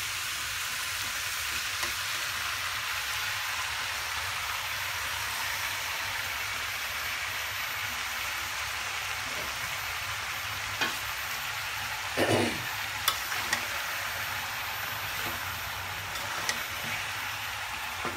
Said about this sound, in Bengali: দর্শক দেখতে পাচ্ছেন আমি এটাকে সুন্দর করে আমি এটা মিক্স করছি।